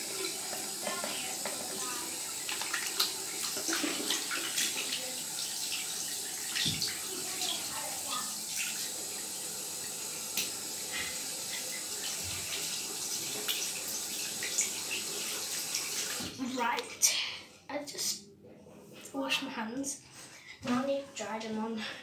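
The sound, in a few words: washing hands under running tap water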